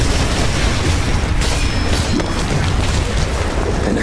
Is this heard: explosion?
yes